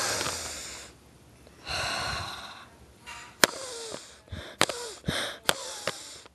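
A voice imitates a Webkinz Boston Terrier toy dog sniffing: a slow breathy draw, then a run of short, sharp, snorting sniffs in quick irregular bursts, close and fairly quiet.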